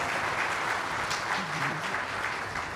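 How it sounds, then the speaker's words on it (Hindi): Thin, half-hearted applause from a devotional gathering audience at a Ram katha discourse in Raipur, a steady low patter of clapping lasting throughout with a faint voice murmuring underneath. "तालियां बड़ी कमजोर है"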